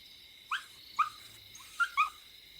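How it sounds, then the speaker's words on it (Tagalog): A dog barks four times at a distance at night, the short sharp calls spaced irregularly against a quiet background. "Tinahulan lang ng aso."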